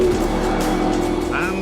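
McLaren P1 hypercar at very high speed, a loud, sustained engine roar with a rising whine toward the end, close and continuous under a voiceover.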